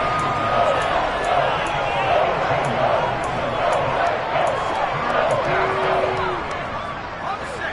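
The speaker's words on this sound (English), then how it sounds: "The crowd getting into it" Football stadium crowd roaring and cheering during a big third-down moment, a dense, steady wall of noise throughout with a broadcast commentator's voice faintly under it.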